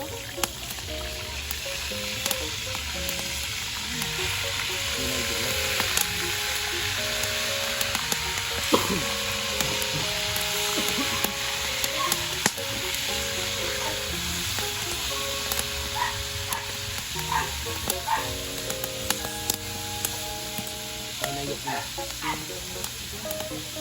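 Marinated pork steak fries in a pan with a loud, continuous sizzle and crackle, while a melodic tonal sound plays in the background.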